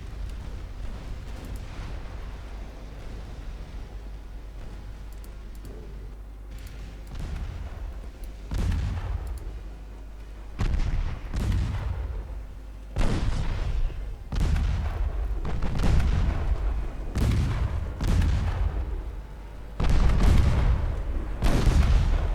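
Warship secondary guns firing in Ultimate Admiral Dreadnoughts, a 1948 USA campaign battle: repeated heavy booming salvos over a steady low rumble, starting sparse and then arriving in rapid close bursts, loud and alone with no talk.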